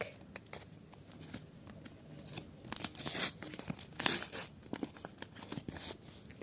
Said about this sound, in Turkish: Evet şimdi bu paketimizi açalım.